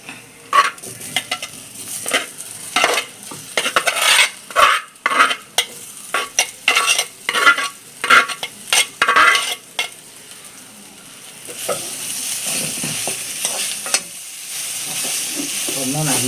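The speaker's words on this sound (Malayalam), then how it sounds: "നല്ല ഒന്ന് ഇളക്കി കൊടുക്കണം മിക്സാക്കി കൊടുക്കണം" Cooked raw banana is stirred through a hot pan, producing a run of sharp, irregular spoon scrapes and clatters over a sizzle that settles into a steady hiss of steam and frying near the end.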